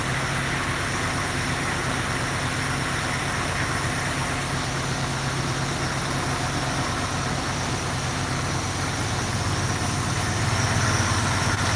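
A Dodge Trailduster engine idles smoothly and steadily from start to finish, a continuous low rumble with even vibration, fairly loud and close, with no talking over it.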